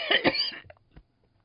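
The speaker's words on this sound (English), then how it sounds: "Look at me starting to cough" A person coughs loudly and close up in one harsh, throaty burst, followed by a few fainter catches and small throat sounds before the clip goes quiet.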